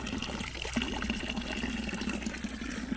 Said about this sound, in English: Yeah, I think that's drinking water.